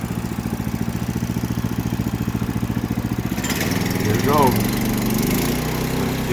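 A Woodland Mills HM122 sawmill's small engine chugs in a steady, rapid idle pulse, then revs up into a louder, rougher run with a brief rising whine, close by and continuous.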